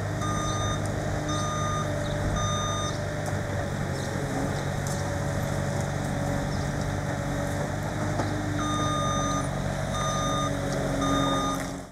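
A garbage collection truck reverses with its warning alarm sounding in steady, evenly timed beeps, one run early and another later, over a constant diesel engine drone and outdoor background noise, no one speaking.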